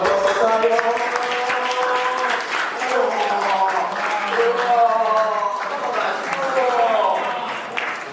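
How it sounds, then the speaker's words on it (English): An audience at a Newcastle book launch for a poetry collection, held at the Lit & Phil, gives a steady round of applause lasting several seconds, with voices talking over the clapping throughout. "Round of applause for Tayo."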